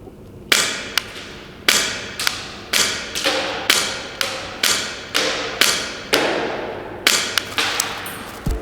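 Airsoft gun shots striking a target, about a dozen sharp, loud impacts at uneven intervals of roughly half a second to a second, each with a short ringing tail, with no talking.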